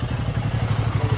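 A Royal Enfield Himalayan 450 motorcycle engine running up close during a test ride, a steady loud low-pitched chugging drone with a rhythmic pulse and some mechanical clatter, with no talking.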